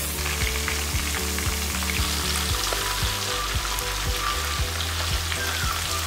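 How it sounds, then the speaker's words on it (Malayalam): Sliced onions and curry leaves sizzle steadily in a hot pan, a loud, continuous frying hiss broken by repeated soft scrapes of a spatula stirring them. "ഇതിലേക്ക് അരിഞ്ഞു വെച്ചിരിക്കുന്ന സവാള ഇട്ടെടുക്കാം. കുറച്ച് കറിവേപ്പ് ഇടാം. നല്ലവണ്ണം വഴറ്റിയെടുക്കുക."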